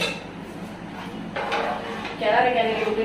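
A ladle scrapes and clinks against a pot of biryani as it is stirred, a few short metallic knocks and rasping scrapes close by under a voice speaking.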